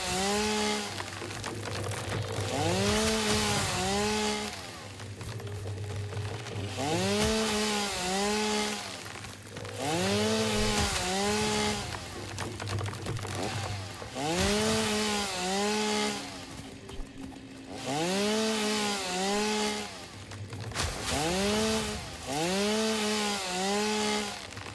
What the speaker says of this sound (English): Get rid of the chainsaw.